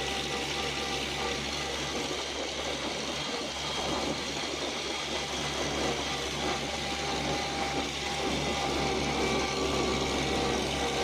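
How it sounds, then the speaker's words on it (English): An Oliver Super 77 tractor plows a food plot in a field in March, its engine giving a steady, continuous mid-pitched drone throughout, with no talking. "There you see the outline of silhouette of a tractor go across the field."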